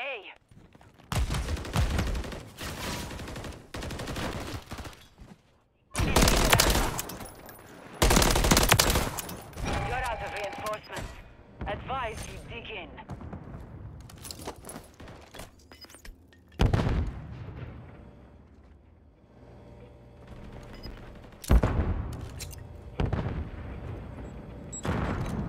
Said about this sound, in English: that's a big gunfight